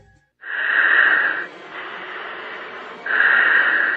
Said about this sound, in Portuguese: A respiração ofegante é de um piloto da FAB, a Força Aérea Brasileira.